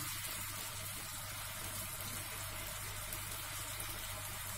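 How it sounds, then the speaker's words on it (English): Half a cup of water poured into a cooking pot while making chicken adobo: a steady, soft splashing trickle that runs evenly throughout, with no talking. "And we can add now little water,"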